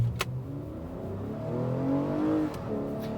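The 3.5-liter V6 engine of a 2020 Lexus RX 350 SUV revs up steadily, its pitch climbing smoothly as it accelerates, heard fairly close with a faint whoosh of motion.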